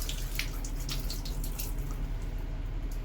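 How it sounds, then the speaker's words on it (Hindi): Water escapes from a leaking angle valve in a bathroom, giving a steady close rush of spray and splashing with brief sharper spatters on top and no talking. "तो काफ़ी पानी अभी भी निकल रहा है"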